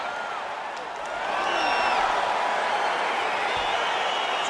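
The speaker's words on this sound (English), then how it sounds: "crowd getting excited as this fight gets underway" Arena crowd noise in EA Sports UFC, a broad steady roar of cheering that swells louder after the first second as a fight begins, with no talking over it.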